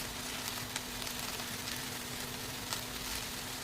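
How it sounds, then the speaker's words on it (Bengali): Chopped vegetables with tomato and chili sauté in a hot pan, giving a steady, close, even sizzle with faint crackles throughout. "আবার একটু কষাবো"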